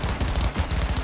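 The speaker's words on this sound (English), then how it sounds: "it's a little SMG" A submachine gun in the video game Cyberpunk 2077 fires a rapid, loud burst of closely spaced shots lasting about a second, with no talk over it.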